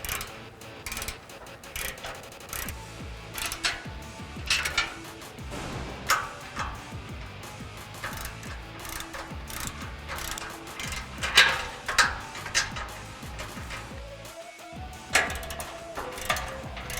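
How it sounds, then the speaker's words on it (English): An 18mm socket on a ratchet, with an 18mm wrench, tightens bolts on a Barricade Extreme HD front bumper for a 2015-2017 Ford F-150. Irregular mechanical clicks and ratcheting sit over a steady busy background, with no talking. "I'm going to use an 18mm wrench and an 18mm socket"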